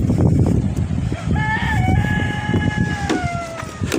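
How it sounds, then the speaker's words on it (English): A rooster crows in a long drawn-out call over a busy background of chickens clucking nearby. "Some of these bloody chickens."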